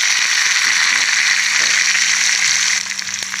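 Onions and garlic frying in hot oil in a pan over tempering spices for an ivy gourd curry, giving a loud, steady, close sizzle that runs throughout with no voices.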